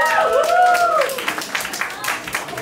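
Scattered claps from a comedy club audience at the Grisley Pear break out as a comedian talks over them, the clapping thin and uneven.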